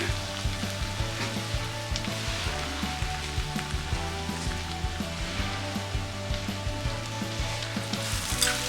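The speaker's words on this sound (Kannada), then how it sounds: "ಈಗ ಇದನ್ನು ಕೂಡ ಇದೇ ರೀತಿ ಮಿಕ್ಸ್ ಮಾಡ್ಕೊಳ್ಳೋಣ, ಮಸಾಲೆ ಎಲ್ಲ ಚೆನ್ನಾಗಿ ಹಿಡಿಯೋದಕ್ಕೆ" Coriander powder being stirred into chicken sambar masala in a pan, a continuous dense sizzle with soft rhythmic spoon scrapes and a low steady hum underneath, close with no talk.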